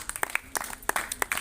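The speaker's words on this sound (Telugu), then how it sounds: "ఒకసారి గట్టిగా చప్పట్లు పడదాం." A church congregation claps together in an irregular, fairly quiet burst of hand claps with no voices over it.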